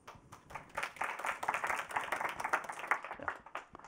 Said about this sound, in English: So, quick round of applause.